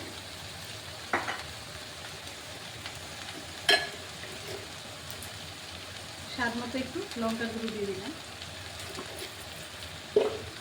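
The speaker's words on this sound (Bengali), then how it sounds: "এখন ভালোভাবে মিশিয়ে একটু ভাজা ভাজা করে নিচ্ছি।" Turmeric, coriander and chili powder fry in a pan for an ivy gourd dish, giving a soft, low sizzle with a few sharp clacks and a stretch of scraping stirs, while a voice talks over it.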